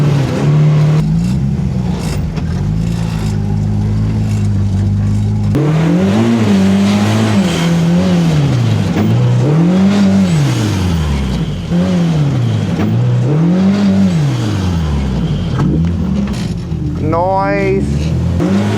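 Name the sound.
vehicle engine revving, climbing off-road trail in two-wheel drive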